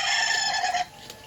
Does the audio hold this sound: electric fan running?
no